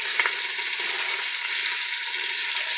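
Sliced onion frying in hot oil with curry leaves in a pan while a chicken sukka is being made, giving a steady, close, loud sizzling hiss throughout with a few faint stirring clicks near the start and no talking.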